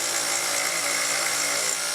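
A Taig mill spinning at 3400 RPM machines steel T-nuts with cutting oil, giving a steady high-pitched whine and hiss, close and constant.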